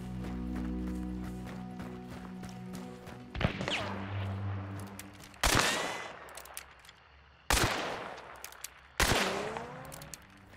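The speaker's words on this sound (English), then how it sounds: "Whenever a bullet hits an object near you, it will have a trailing ricochet sound effect." Gunfire with trailing ricochet whines in Hunt: Showdown, several loud sharp shots landing close by, each followed by a descending whistle, over a steady low ambient drone.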